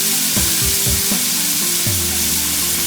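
A burger patty sizzles loudly in a hot pan on a burner that has just been switched off, with a few dull thumps and scrapes from the flip. The hiss continues steadily.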